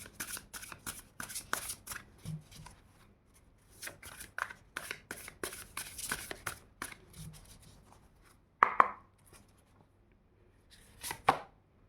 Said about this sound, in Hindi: थोड़े से शफल कर लेते हैं हम।